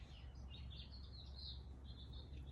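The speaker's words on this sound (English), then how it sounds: "Gosh, the birds are so pretty." Birds chirp faintly in the distance outdoors, thin high tweets over a low background rumble, with no voices.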